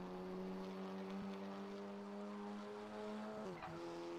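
An Audi TT runs flat out on a race track, its engine droning steadily with a sustained harmonic tone that dips briefly near the end as it shifts or lifts, loud and continuous with no talk.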